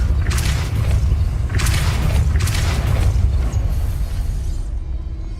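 Depulso spell cast in Hogwarts Legacy, heard as a series of three or four forceful whooshing booms over a steady deep rumble, loud and close, tapering off at the end.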